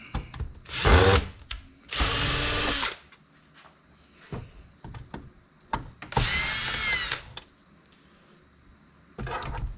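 A power drill backs screws out of a large DirecTV receiver box in short bursts, several loud whirring runs separated by pauses with small clicks and handling of the metal casing.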